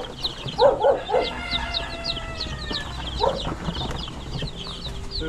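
Chickens and chicks in their coop, with loud close clucks and a few peeping chick calls, irregular and overlapping, with no talk.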